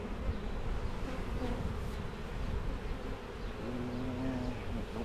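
Honeybees buzz around an opened hive during a split inspection. A faint, steady drone hums throughout, with the whine of single bees flying close now and then.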